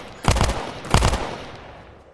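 Two short bursts of rapid gunfire in the VR shooter Tactical Assault VR, loud and close, each lasting about a third of a second, then a fading tail with no talk.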